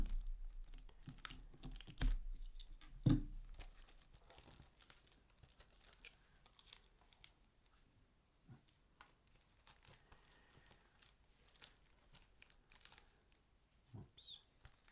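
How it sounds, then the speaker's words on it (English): Plastic wrap being peeled off a Criterion disc package: soft, intermittent crinkling and tearing, close and quiet, with no talk. "let's unwrap that and I'm going to tell you the details and show you what's inside"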